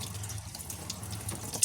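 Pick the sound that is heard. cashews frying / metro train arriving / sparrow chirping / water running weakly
water running weakly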